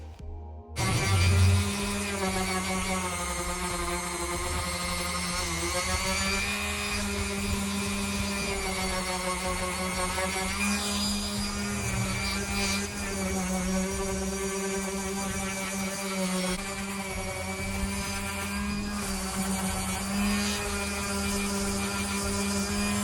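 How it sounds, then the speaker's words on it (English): Scuff sanding of wooden bed rails from a rustic headboard and footboard, heard as a loud, continuous whirring tool drone with a shifting tone across the whole stretch, with no voices. "Now I just want to go ahead and do a scuff sand on my bed rails."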